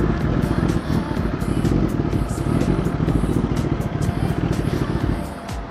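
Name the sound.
Kawasaki Ninja superbike being ridden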